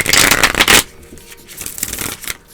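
Tarot cards riffle loudly in a quick burst, followed by softer shuffling and light handling sounds.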